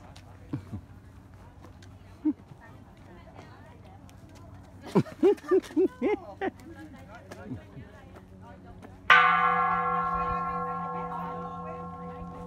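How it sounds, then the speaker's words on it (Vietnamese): A bell is struck once with a sharp, loud clang that rings on as a long, slowly fading tone, after several seconds of scattered voices and shuffling. "tức là ai muốn đánh chuông là đánh hả?"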